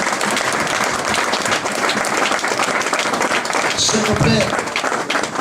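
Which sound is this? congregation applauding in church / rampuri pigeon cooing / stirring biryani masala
congregation applauding in church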